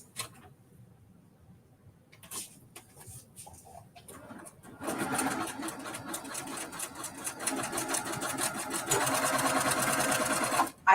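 A sewing machine stitches a piece onto a quilt, starting with a few short hesitant bursts and then settling into a long, steady, close-up mechanical whir that grows louder toward the end.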